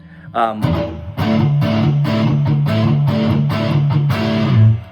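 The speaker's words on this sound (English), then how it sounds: "And even if you play this thing with some distortion on it" Distorted electric guitar chord strummed repeatedly in a quick, driving rhythm, loud and close, ringing out at the end.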